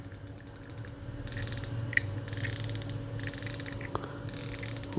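Bursts of crisp mechanical clicking from a Hawke Panorama 4-12x40 rifle scope turret, several quick runs of ratcheting detents with short pauses between them, close and fairly quiet, no talking.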